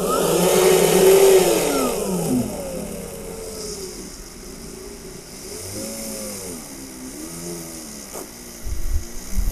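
A DEKTON D21-MMK01 cordless die grinder fitted with a 3.2 mm bit switches on and runs. Its high whine sweeps up and down as the speed is adjusted, and it is heard alone.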